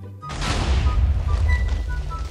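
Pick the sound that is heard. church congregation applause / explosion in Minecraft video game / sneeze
explosion in Minecraft video game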